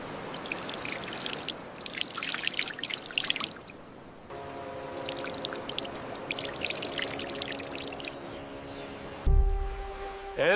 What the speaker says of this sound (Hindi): तुम मेरे और पुतले के ऊपर एक साथ पानी डालना